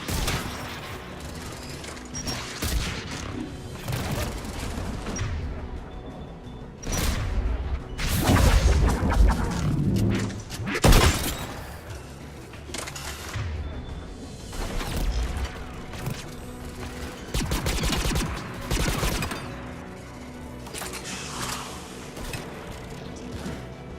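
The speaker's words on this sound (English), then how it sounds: "Anti-aircraft gun." An anti-aircraft gun fires heavy booming rounds in the sci-fi shooter Mass Effect 3, in several bursts over a droning ambient backdrop, loud and fairly near, with mechanical clanks between volleys.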